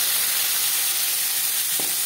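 Onion goes into hot oil already holding fried dried red chillies and five-spice seeds for a lentil dal, producing a dense, continuous, close hiss of sizzling that stays loud and even throughout.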